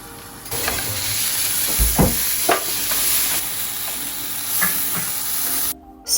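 A burger patty sizzles and fries in a covered pan, a steady loud hiss with occasional pops and crackles, ending in a brief cutoff.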